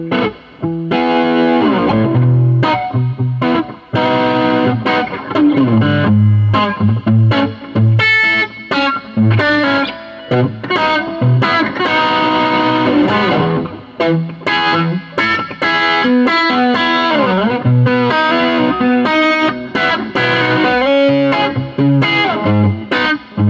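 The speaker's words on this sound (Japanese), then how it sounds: "こうボリューム絞るとね、しっかりちょっとクランチトーンにな" Crunchy, lightly overdriven FUJIGEN EEL-FM electric guitar with its volume rolled back, strummed chords and single notes ringing loudly and continuously with brief gaps between phrases, no voice.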